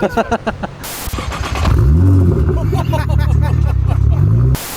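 A Nissan R35 GT-R with a full titanium Titech exhaust revs loudly up close, its engine roar swelling and holding after a few sharp opening bursts.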